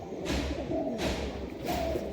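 Homing pigeons coo in soft, low, repeated calls, three rounded bursts spaced across the clip, close by with a light ambient hiss.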